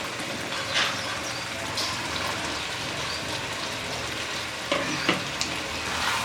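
Fried potatoes going into a pan of cooking chicken liver and brain, a continuous dense sizzle with occasional soft stirring clatter, steady and close, no talking.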